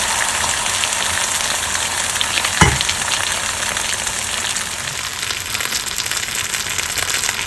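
Fish head frying in a wok with rice wine splashed in, a dense, steady sizzle and hiss close up, with one brief sharp clack partway through and no talking.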